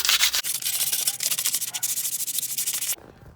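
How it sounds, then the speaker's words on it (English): Sandpaper of 600 grit rubs over a BMW E90 brake caliper, fast repeated close strokes with a gritty rasp that cut off abruptly near the end. "Now you want to get 600 grit sandpaper and just sand it."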